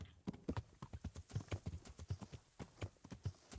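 Horse hooves clip-clop in Kingdom Come: Deliverance, a quiet, close series of distinct hoof strikes in a loose walking rhythm with no voices.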